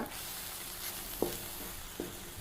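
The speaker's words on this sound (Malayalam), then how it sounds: "ചെറുങ്ങനൊന്ന് എണ്ണയിലിട്ടങ്ങാണ്ട് ഒന്ന് ഇവിടെ ഇട്ടുകൊണ്ട് ഒന്ന് വറുത്ത് കൊടുക്കുക" Spices for a homemade pickle fry gently in a little hot oil, making a faint, steady sizzle with two soft spoon taps against the pan.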